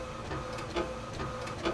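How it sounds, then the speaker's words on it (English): An HP DeskJet 1000 inkjet printer printing a photo, a steady mechanical whir with soft rhythmic clicks and carriage movements, fairly close and continuous. "printer's printing right now"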